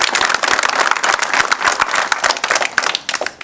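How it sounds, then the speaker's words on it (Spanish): An audience gives a new school staff member a round of applause at an institutional gathering, dense loud clapping from many hands that continues steadily throughout. "A la profesora Maribela, vamos a darle un fuerte aplauso."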